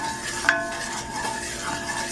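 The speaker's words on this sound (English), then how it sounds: "Give that a stir." Gumbo stirred in a pot, a close, continuous scraping swirl over a low bubbling sizzle, with one brief clink early on.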